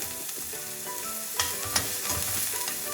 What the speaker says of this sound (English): I'm going to stir this well. Lower the flame and stir it.